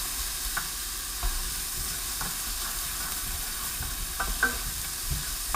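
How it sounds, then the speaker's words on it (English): Garlic frying in a pan for lamb curry gives a soft, steady sizzle while a spoon scrapes through it in a few irregular stirring strokes. "Give that a little stir."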